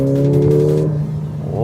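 A 2018 Mercedes-Benz GLA 45 AMG in Sport Plus mode revs hard close by, its engine climbing in a loud, steady drone before the pitch drops briefly and rises again as it pulls through a gear change.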